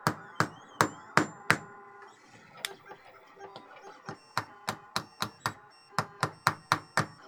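Claw hammer tapping on a 3D printer part during assembly, about twenty sharp metallic knocks in uneven bursts, close and loud with short gaps between groups.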